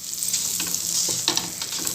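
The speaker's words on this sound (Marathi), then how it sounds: "आता आपण बटर ह्याच्यावर मस्त तव्यावर लावून घेऊया" A buttered bread sandwich sizzles on a hot griddle with a close, steady hiss, scattered crackles and a few scraping touches of a utensil.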